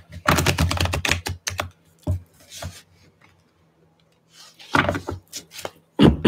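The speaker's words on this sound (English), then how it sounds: "Last shuffle." Tarot cards being shuffled by hand, a run of quick crisp riffling clatters in close bursts with short quiet gaps between them, ending in one more flurry.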